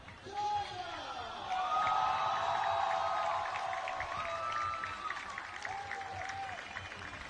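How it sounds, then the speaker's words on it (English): Stadium crowd cheering and applauding at a silver medal presentation for China's men's blind football team at the IBSA World Games final, a sustained roar with clapping and an announcer speaking over it. "I think we're going to get a big roar here."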